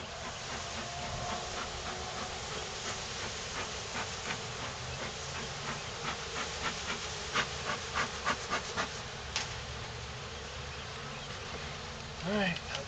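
Honeybees at a backyard beehive fitted with jars and a metal cloth screen make a continuous buzzing hum, with individual bees flying close past the microphone in short louder swells.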